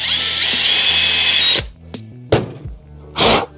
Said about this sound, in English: 5/32 drill bit and get to winging it.